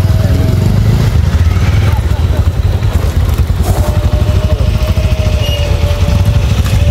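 A motorcycle runs along a narrow, winding small road near hills, its engine a steady low rumble throughout, with a voice talking over it.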